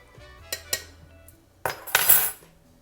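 Deviled egg filling with white wine vinegar being mixed in a bowl, giving a few sharp clinks of a utensil against the dish followed by a louder burst of scraping and stirring, close up with no talking.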